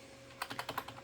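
A command is typed on a computer keyboard while building a Socket 7 computer running Windows 98: about six quick, quiet keystrokes in a short, uneven burst that follows a moment of near silence with a faint hum.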